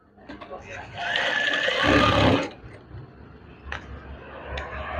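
A sewing machine stitches a folded curtain hem, with a loud burst of whirring in the middle and quieter mechanical ticks around it.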